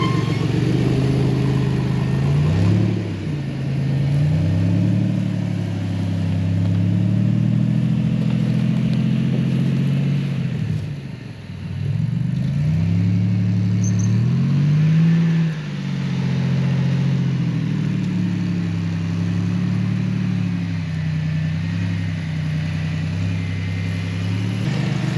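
An off-road buggy engine pulls steadily in low gear with a loud, continuous droning hum up close, briefly easing off and revving back up a few times.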